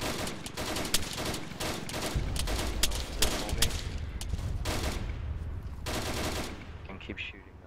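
Gunfire during a military simulation operation, rapid overlapping bursts of shots at mid distance forming a dense, continuous crackle, with faint voices underneath.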